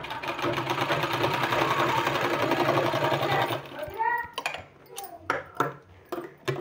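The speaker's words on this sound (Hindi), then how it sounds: "दोनों को इस तरह सिलाई लगा देना है।" A sewing machine runs in a fast continuous whir as it stitches two strips of black and red fabric, each 1.5 inches wide, then stops as a person starts talking nearby.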